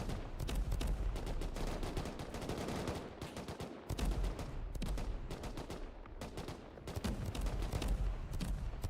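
Sustained automatic gunfire during a naval battle in the video game Rust, with dense overlapping bursts of rapid shots running almost continuously, loud and close, broken by only a couple of brief pauses.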